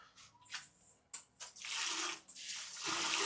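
Water running from a tap in the men's restroom at a riverside campsite in Botolan, Zambales, arriving in bursts and then flowing as a steady, close hiss with a few splashes and knocks.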